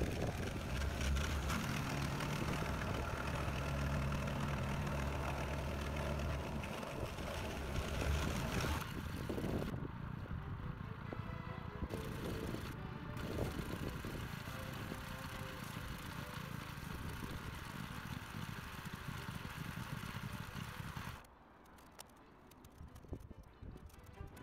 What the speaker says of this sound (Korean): 진동 롤러에 시동을 걸어야 하는데 아무리 줄을 당겨도 시동이 걸리지 않네요.